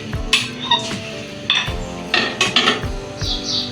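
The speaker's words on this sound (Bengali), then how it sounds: "ধুয়ে রাখছি মুসুরির ডালটা" Red lentils (masoor dal) are washed in a metal pot, producing irregular clanks, knocks and splashy rattles of grains and vessel at close range, with short pauses between strokes.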